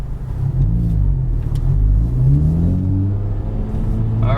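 2021 Honda Civic Type R engine under hard acceleration, a loud close rumbling rev that rises in pitch, dips at a gear shift and climbs again, with no voices over it.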